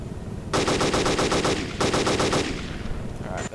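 Two loud, rapid bursts of automatic machine-gun fire from an attack helicopter's gun in the game ArmA 2, each a fast string of sharp shots, with a brief pause between them; game-like and close.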